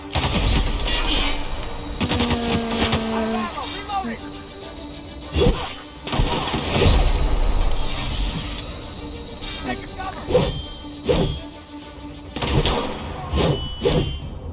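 Gunfire from weapons in The Outer Worlds video game: several sharp, loud bursts and impacts spread unevenly through the clip, over game music and effects, with a person talking between and across the shots.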